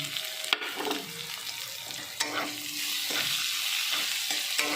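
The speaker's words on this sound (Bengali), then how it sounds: "রসুন লম্বা লম্বা করে কুচিয়েছি আবার কিন্তু ছোটো ছোটো করে কুচিয়ে নিয়েছি দিয়ে তেলের ওপরে দিয়ে দিলাম" Chopped garlic sizzling in hot oil in a home kitchen while making chicken 65, with a steady crackling fry broken by a few sharp stirring clinks and scrapes of a utensil against the pan.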